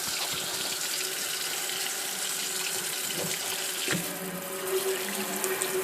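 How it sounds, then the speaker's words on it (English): Water sprays from a kitchen sink sprayer on a newly installed faucet, a steady hissing rush into the basin that shifts in tone and pressure near the end, heard alone and close. "And the sprayer, I think, will actually work."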